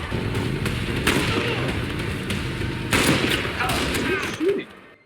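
Gunfire from a TV action scene comes as a rapid fusillade of sharp bursts, loud and close, with a few heavier blasts mixed in. The shooting fades out abruptly at the end.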